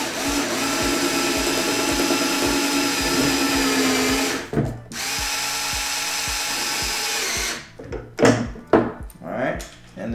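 A power driver runs a long 50 mm screw into an X-class drone frame, a steady close whirring drive for several seconds, a brief stop, another long run, then a few short bursts.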